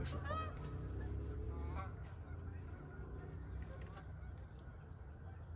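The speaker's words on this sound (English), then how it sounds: "the geese are not flying directly overhead" Geese honk in a loose chorus at a distance, calls rising and fading over a low background rumble, with a voice talking faintly at times.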